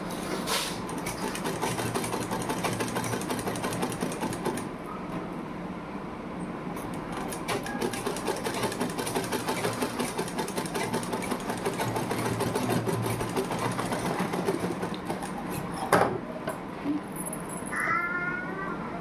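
Sewing machine stitching the neckline of a double katori blouse, a steady rapid mechanical whir running throughout at close range with brief pauses and small clicks near the end, no talking.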